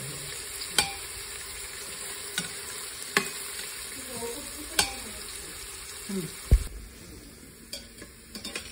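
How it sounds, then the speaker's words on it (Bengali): Onions and green chillies stirred with spices in an Instant Pot while cooking khichuri, a soft sizzle under a few sharp, evenly spaced taps and scrapes of a spoon against the pot. "কাঁচামরিচ আর পেঁয়াজ যাতে স্টিয়ার করা হচ্ছে"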